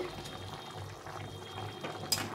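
Fish curry with potato and eggplant bubbling in a pot, khoira fish having just gone in: a soft, steady simmering hiss with faint bubbling pops, close but quiet, with no talking.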